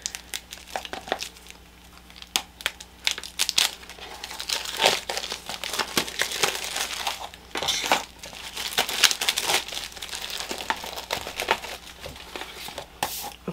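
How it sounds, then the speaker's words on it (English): Plastic wrap is peeled and crumpled off a newly unwrapped sketchbook, giving continuous close crinkling and rustling with sharp crackles throughout. "let's quick take the paper off or the plastic off and flip through here"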